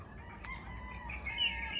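A rooster crows faintly in the distance, its drawn-out call rising above a quiet outdoor background.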